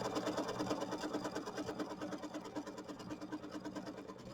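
An embroidery machine stitches a tack-down line through fabric for a mini quilt, a fast, even mechanical chatter that runs steadily and close up, slowly fading a little, with no talking.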